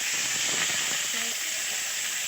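Tomato, chopped onion, green chilli and peas fry in a hot pan with a steady, loud sizzle and hiss, with faint stirring scrapes and a brief muffled voice in the background.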